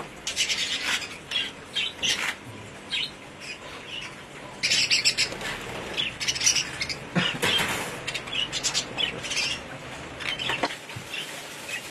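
Young blue-winged budgerigars kept together: a close, busy chorus of bright chirps and scratchy squawks in irregular bursts, louder from the middle on, with no clear talk.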